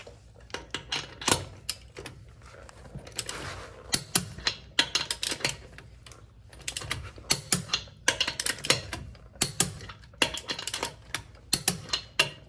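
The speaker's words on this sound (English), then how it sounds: "Now I'm going to torque them to spec." A torque wrench tightens the lug nuts on a 2009 Toyota Corolla during a brake pad job, giving close, quiet bursts of rapid ratcheting clicks separated by short pauses.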